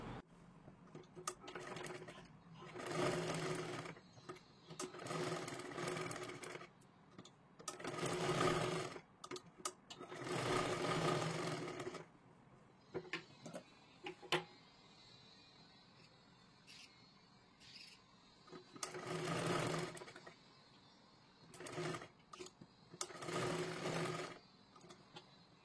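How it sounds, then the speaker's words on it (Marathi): A sewing machine stitches a sleeve in several rhythmic whirring runs of a few seconds each, separated by quiet pauses and faint fabric handling, close and moderately loud. "इथून शिलाई करायला सुरुवात करायची आहे।"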